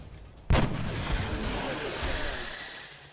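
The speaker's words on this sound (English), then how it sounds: "Might as well take the headshot." A sniper rifle headshot in XCOM: Enemy Unknown lands as a single loud, sharp blast, then a long rumbling decay that fades over the next few seconds.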